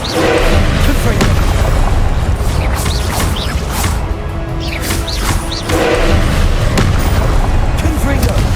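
Confringo fire-spell blasts from the Hogwarts Legacy video game, repeated loud booms and whooshing impacts under a voice and battle noise.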